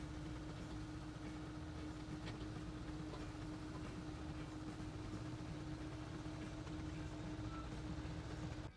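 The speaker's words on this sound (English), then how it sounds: "Augers in the bottom of these hoppers push the ingredients together to the base of a mixing auger at just the right ratio." Gunite rig augers push sand and cement from hoppers into a mixing auger, giving a steady, loud mechanical rumble and rattle with a constant hum that runs unbroken throughout.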